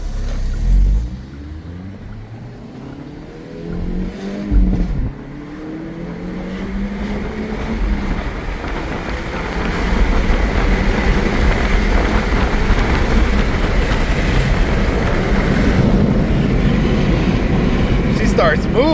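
A 2024 Hyundai Elantra N, still in its break-in period, accelerates hard on a pull, its engine note climbing steadily and growing louder and rougher toward the end, with someone talking over the drone inside the car.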